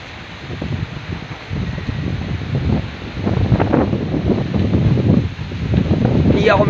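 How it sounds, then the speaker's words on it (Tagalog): Strong, steady typhoon wind from Typhoon Tisoy roars and buffets the microphone, rising in gusts toward the end, with rustling and a faint whistle near the close. "Pakinggan nyo po ang simoy at ang gupit ng hangin dala ng bagyong"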